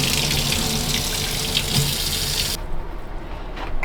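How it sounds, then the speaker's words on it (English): Hot water runs steadily from a sink tap as a broad, constant rush that cuts off abruptly near the end, with faint drips and trickles afterward. "Hot water from the sink."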